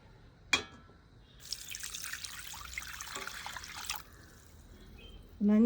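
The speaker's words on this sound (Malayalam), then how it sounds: "വെള്ളം ഒഴിച്ചു വെള്ളം ഒഴിക്കുക" Water pours steadily into a cooking pot for a few seconds while rasam is being made, a close, moderately loud splashing stream that follows a sharp clink and ends in a brief bright clatter.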